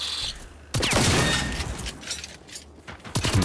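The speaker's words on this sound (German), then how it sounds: "Ich höre zwar Schüsse, aber ich sehe absolut nichts." Gunfire in the video game Generation Zero: a loud burst of rapid shots with crackling echoes, continuing as a dense, rattling fusillade for a few seconds.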